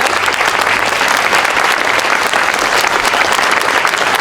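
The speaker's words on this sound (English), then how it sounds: "Can we get a round of applause for them for joining us?" A large outdoor crowd at a Flag Day celebration in Batavia applauds the Knights of Columbus Color Guard, a dense, loud, continuous clapping that holds steady throughout.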